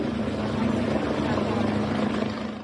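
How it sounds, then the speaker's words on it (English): A helicopter hovers over flooded ground in Rio Grande do Sul, southern Brazil, giving a loud, steady rotor drone that runs unbroken for the whole stretch. "Here, a helicopter hovers"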